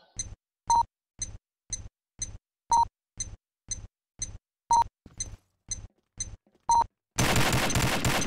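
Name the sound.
gunfire in a video game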